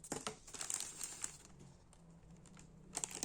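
Cardboard packaging from a parcel crinkles and rustles as it is handled and opened, with sharp crackling bursts at the start and end and quieter rustling in between, fairly close and without talk.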